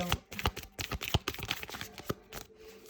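Tarot cards are shuffled by hand up close, a quick run of crisp riffling clicks and soft slaps in an uneven rhythm, moderately quiet with no talking.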